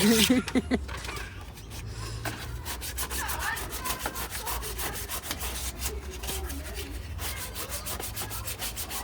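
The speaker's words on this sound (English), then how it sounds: "Wet and dry for sanding." Close, rhythmic rubbing strokes of wet-and-dry sandpaper scrape back and forth in a steady, repeated pattern, with a faint low hum underneath.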